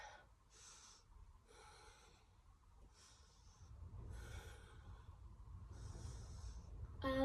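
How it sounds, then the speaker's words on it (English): Deep, audible breaths during a gentle but strong yoga flow come in a slow rhythm of about six exhales and inhales, each close and airy, against a quiet room. "Nice deep breaths."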